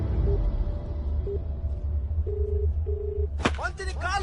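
A telephone is being dialed: a series of short, evenly spaced keypad tones sounds over low background noise, then a sharp clatter and a burst of voices follow near the end.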